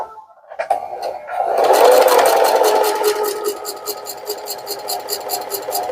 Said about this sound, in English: We'll take this to the machine, back stitch at the beginning and the end, and sew down the length of it at a 1/4 inch seam allowance.